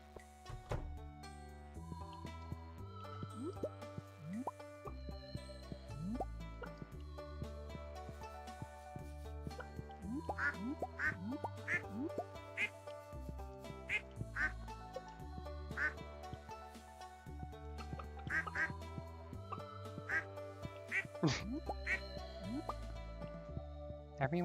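Ducks in the farming game Stardew Valley quack repeatedly in short nasal bursts, scattered over cheerful background game music throughout, with no talking.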